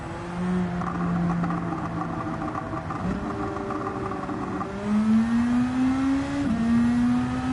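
A car engine in Gran Turismo 7 holds a steady drone, then climbs through rising gear pulls, with a shift break partway through. The sound stays moderately loud and continuous, and no voices are heard.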